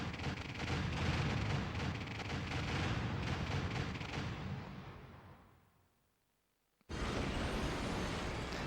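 Big detonation in the PS2 game Detonator: a loud, sustained rumbling blast that roars for several seconds, fades to near silence, then a second heavy boom cuts in abruptly.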